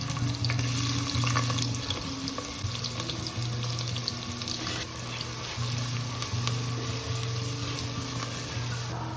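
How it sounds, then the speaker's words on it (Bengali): Whole cloves and crushed small cardamom pods frying lightly in hot oil in a kitchen pan, a steady soft sizzle throughout with a faint low hum and occasional light clinks, no talking. "5টা লবঙ্গ দিলাম, আর 5টা থেতো করা ছোট এলাচ দিলাম। এটা হালকা করে ভেজে নেব।"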